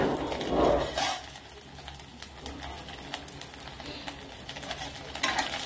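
Garlic and ginger fry in a hot pan, a steady close sizzle broken by scraping stirs, with one brief louder clatter early on and no talk.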